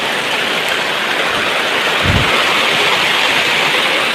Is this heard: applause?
no